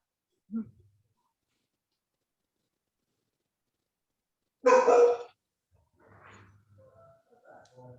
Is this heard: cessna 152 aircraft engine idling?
no